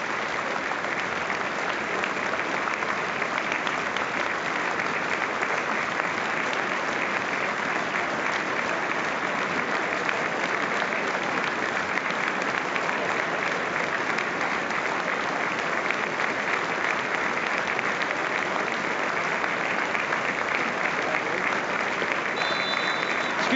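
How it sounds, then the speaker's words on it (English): Football crowd at an Aberdeen versus Motherwell Scottish Cup match giving a minute's applause, a dense, steady roar of clapping that continues evenly throughout without any break. "it's a minute's applause for Tommy McMillan"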